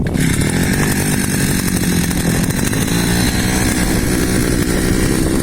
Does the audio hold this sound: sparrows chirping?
no